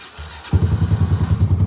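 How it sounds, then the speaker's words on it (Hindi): A Yamaha YBR125 motorcycle engine cranks briefly, then catches and settles into a loud, close, steady idle with a rapid throbbing pulse. "दोबारा से हम जो बाइक को ऑन करते हैं"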